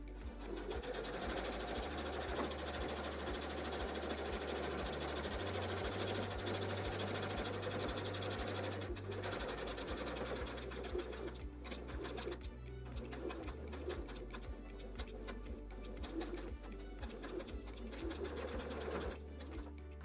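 A sewing machine stitches around the edge of a scrappy oven mitt, a loud steady whirring hum that shifts speed and briefly pauses partway, with a pigeon cooing faintly in the background.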